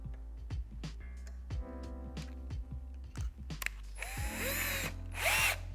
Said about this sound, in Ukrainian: Дрилем чи широповертом приводимо пристрій у дію